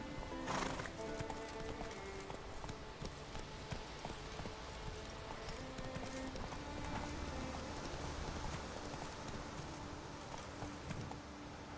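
Roach, a horse in The Witcher 3, gallops in a steady rapid clip-clop of hooves and gives a sharp whinny near the start, over a constant soft game ambience, with brief quiet speech.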